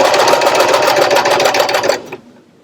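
A sewing machine runs a straight stitch along an isolation gown seam, loud and close with a fast steady chatter for about two seconds before it stops abruptly.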